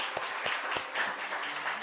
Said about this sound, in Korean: 우리 많은 분들 오셨는데 환영의 박수 한번 하겠습니다.